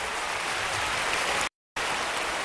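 Audience applause in a Spanish studio concert show, a dense steady wash of clapping at full volume that cuts out briefly before resuming.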